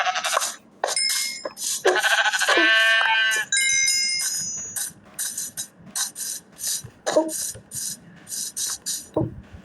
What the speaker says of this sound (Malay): Wow, tiba-tiba ada biri-biri spawn.